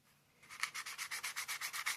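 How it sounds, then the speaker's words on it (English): Finer grit sandpaper rubs back and forth along the top of a Bear and Son Peanut pocket knife in quick, even strokes, a close rhythmic rasping of about a dozen passes. "I'm going to go along the top with some finer grit tone that down a little bit"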